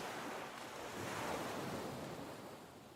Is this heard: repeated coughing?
no